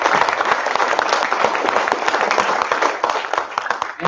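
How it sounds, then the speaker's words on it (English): Applause at a panel forum event honouring a sponsor, many hands clapping briskly and loudly for several seconds, fairly close, with a few sharper individual claps standing out and tapering slightly at the end. "giving us the biggest round of applause to our biggest sponsor"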